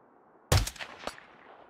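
A single loud gunshot in the Hitman 2 video game cracks sharply out of silence, followed by a short decaying tail and a quieter second crack.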